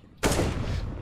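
Gunfire in Counter-Strike: Global Offensive competitive play, a sudden loud burst of shots that sets off a dense, sustained rattle lasting to the end.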